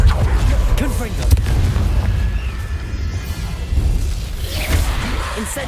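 Confringo spell explosion in Hogwarts Legacy, deep booming rumble with whooshing bursts, loud and close, mixed with a voice and other game sounds.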